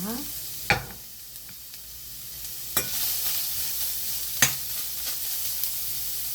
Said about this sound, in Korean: 먼저 잘 달구어진 프라이팬에 당근을 먼저 볶아주도록 하겠습니다